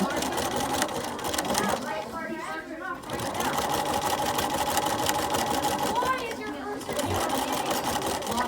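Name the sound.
sewing machine stitching over the edge of a pillowcase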